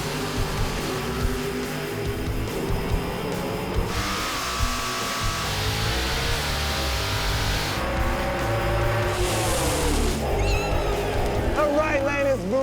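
A 1988 Chevy Camaro drag races at Route 66 Raceway, its engine roaring loud and sustained with revving surges and pitch sweeps as cars launch and pass, while voices talk over the din.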